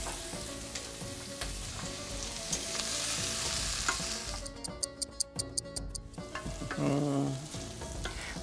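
Vegetables for menemen frying in a pan on a hot stove, a continuous close sizzle with a run of quick utensil ticks and stirring scrapes partway through, with no talking.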